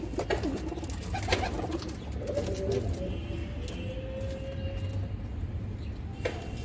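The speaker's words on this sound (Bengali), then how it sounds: "এই আর এক জোড়া আরশাদ পায়রা আছে" A pair of pigeons coo softly in low, rolling calls, with a few faint chirps and knocks over a steady background hum, no speech.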